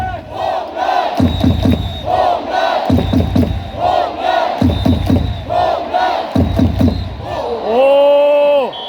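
Baseball stadium crowd at a Hanwha Eagles game claps in repeated three-beat bursts and shouts a rhythmic chant together, loud and close from the cheering section, with the chant swelling into a long sustained cry at the end.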